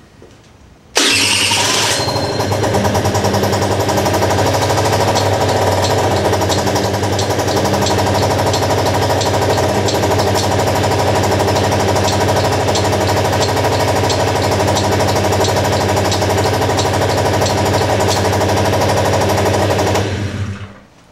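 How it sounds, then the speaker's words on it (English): A mobility scooter switches on with a sharp start and then runs on at a steady, loud electric whine and hum for about twenty seconds before cutting off. "Turn your scooter on."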